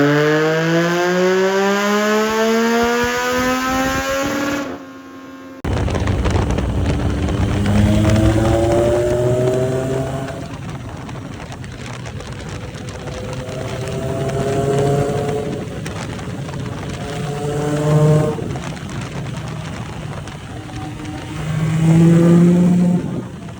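A 2024 Yamaha MT-09 motorcycle with a Toast exhaust and Stage 2 air box lid spins a dyno drum, engine revving up through rising pulls, cutting briefly, then surging again in repeated loud climbing runs.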